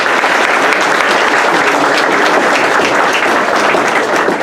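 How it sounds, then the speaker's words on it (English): Applause at a senior sports banquet: loud, dense, continuous clapping from a large audience in a hall, close and sustained throughout. "let's give a round of applause to the members of the Booster Club and Athletic Department for putting this"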